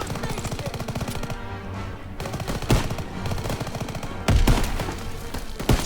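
Rapid bursts of machine-gun and rifle fire in the World War II shooter Call of Duty WWII, loud and close, with dense rattling volleys broken by a few heavier impacts and brief lulls.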